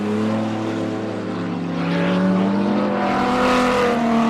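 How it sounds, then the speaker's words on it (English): A BMW stock car engine at a race, a loud, steady, close mechanical roar with sustained engine tones rising in pitch partway through, with no talk over it. "That's one sound that you will always recognize, is the sound of a BMW."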